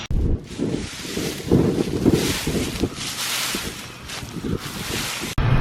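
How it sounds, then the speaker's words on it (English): Wind rushes steadily across a soybean field at harvest, a loud broadband roar with gusty surges and rumbling buffeting on the microphone throughout, no talking. "Pods are getting dry, sun is shining, wind is blowing, beans are running good."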